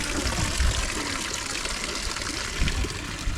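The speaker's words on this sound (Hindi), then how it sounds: "इस तरीके से इसको पंप करके पानी निकालते हैं" Water gushes steadily from a hand pump near a restaurant and wedding hall at the Kelchterhoef estate in Limburg, Belgium. The splash is continuous and close, with a few heavier surges.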